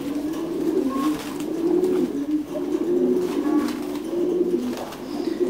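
Thai Titan meat pigeons coo steadily at a pigeon farm in Đắk Lắk in the early evening, many overlapping low throaty calls forming a continuous close chorus with no talk.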